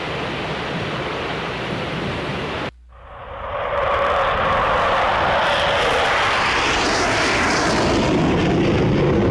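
F-18 jet engine in the X-Plane 11 flight simulator spooling up for a night takeoff: loud broad roar that cuts out briefly, then swells back and holds steady and loud with no talk.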